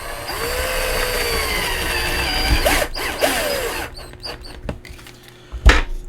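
A power drill drives screws into the frame of a cryptocurrency mining rig, with short, loud bursts of whirring set against steady background noise and a few clicks and knocks.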